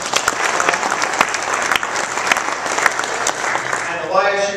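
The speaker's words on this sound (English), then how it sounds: "Yes, you can clap. Go ahead." Dinner audience at a college basketball tip-off event breaks into sustained, loud clapping filling the room, with a voice starting to speak again at the very end.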